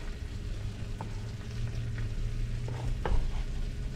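Surf-caught fish frying in a pan sizzles steadily up close, with a few light clinks and scrapes of a spatula scattered through and a slightly sharper knock near the end; no one speaks.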